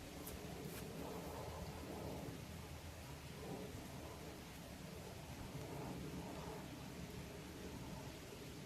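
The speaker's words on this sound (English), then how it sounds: "It's raining a little bit." Steady light rain falls outdoors at an airgun practice range, a continuous soft hiss with no talk over it.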